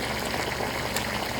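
Malatang broth of bone stock and water boils with tofu noodles, mushrooms, meat and seafood in the pot, giving a steady, dense bubbling that carries on evenly throughout with no voices.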